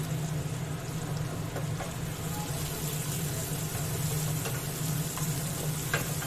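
Two large chopped onions frying in oil with garlic in a pan for ghugni: a steady, close sizzle with occasional stirring clicks, with a voice talking over it.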